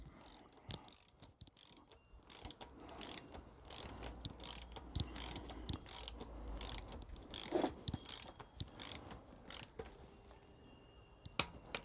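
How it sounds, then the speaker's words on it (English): Ratcheting clicks from a torque wrench tightening rocker arms on an LS engine, a steady run of close, crisp mechanical clicks with short pauses, no talking. "now I should be able to go over with my torque wrench"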